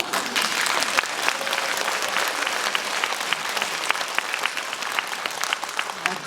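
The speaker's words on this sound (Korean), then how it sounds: "이게 경남에서는 상상할 수 없는 박수 소리예요" A lecture audience at a Korean garden-design talk breaks into steady, dense applause that fills the whole stretch, loud and close, with scattered sharper claps standing out and no talking over it.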